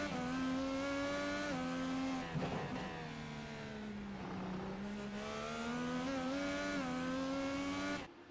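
Race cars on the Long Beach street course: a strongly tonal engine note climbs and drops through gear changes, with a brief tire-scrub burst around the middle, loud and close, and no speech.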